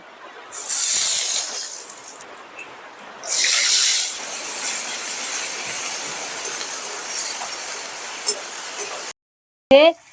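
A loud, steady sizzle of onion paste hitting hot oil for a bhetki fish and potato curry, surging in bursts and then settling into a continuous hiss before cutting off abruptly.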